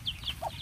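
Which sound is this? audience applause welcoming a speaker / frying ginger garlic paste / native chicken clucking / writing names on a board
native chicken clucking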